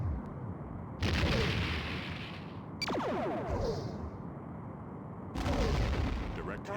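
Starship weapons fire and impacts in Star Trek: A Final Unity, three separate loud blasts spaced a couple of seconds apart, each with a rumbling tail and a swept electronic tone, with a quiet pause between them.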